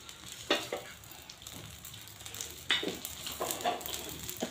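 Desi pure ghee sizzling on a hot tawa while cooking spicy tawa idli, a soft steady fry with a few brief crackles and stirring scrapes, quiet and close with no talk.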